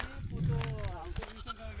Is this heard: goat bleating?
yes